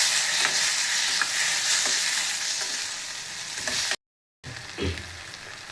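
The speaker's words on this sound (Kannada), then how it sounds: "ಇವಾಗ ಮೆಣಸಿನ್ಕಾಯಿ ಹಾಗೆ ಟೊಮ್ಯಾಟೊ ಎಲ್ಲ ಫ್ರೈ ಆಗಿದೆ." Onion, dry coconut, chillies and tomato fry in a pan for a village-style sambar masala, a steady close sizzle broken by stirring scrapes, cutting briefly to silence before the frying resumes.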